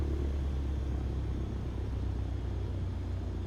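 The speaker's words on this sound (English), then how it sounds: "And throttle idle sounds fine." A Cessna 152 engine idles at closed throttle in Microsoft Flight Simulator, a steady low rumble with an even, slightly pulsing drone that holds throughout, with no talk over it.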